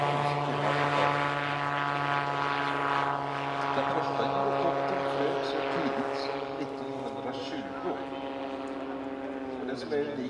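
A steady propeller engine of an ELA Eclipse gyrocopter in airshow flight hums with strong droning tones for the whole stretch, holding fairly constant, while a person talks over it.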